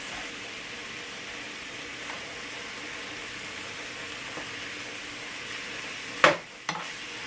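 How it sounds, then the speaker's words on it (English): A steady soft sizzle of sloppy joe meat with onions and peppers frying in a pan, broken up and stirred, ending in a couple of sharp, close utensil knocks. "So just going to break this up, get it all mixed in real nice."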